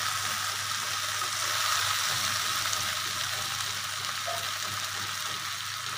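Small mourala fish chorchori fries in a pan with a steady, close sizzle that holds evenly throughout, with no talking.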